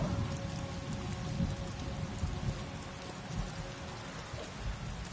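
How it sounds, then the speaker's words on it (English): Steady rain pours down with low rolling thunder during a storm in the video game Elder Scrolls Online, Grahtwood region, a continuous wet wash heard alone without voices. "I could do without this damnable rain. It's been storming since we arrived"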